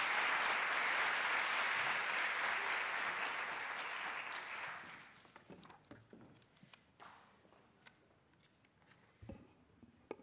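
An audience at a USAID graduation ceremony at the American University of Beirut applauds as the U.S. Ambassador is welcomed on stage, dense steady clapping for about five seconds that then thins to a few scattered claps and fades.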